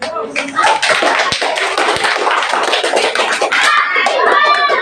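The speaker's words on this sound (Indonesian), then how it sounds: "berupa penghargaan, berupa tepuk tangannya." A classroom of children applauds a group presentation with dense, loud, continuous clapping that fills the whole stretch.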